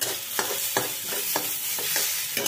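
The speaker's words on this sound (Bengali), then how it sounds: "মোটামুটি চালটা আমার ভাজা হয়ে গেছে।" Gobindobhog rice dry-frying in a pan with no oil, a steady dry sizzle broken by regular scraping strokes of a spoon stirring the grains, close and clear with no talk.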